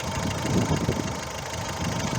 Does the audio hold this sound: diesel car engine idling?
yes